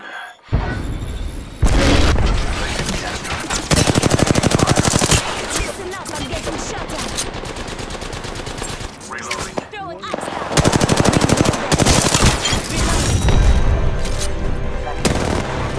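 Gunfire in the video game Apex Legends, with dense bursts of automatic weapon fire, sharp single shots and booming impacts coming in loud, rapid volleys that pause briefly between exchanges.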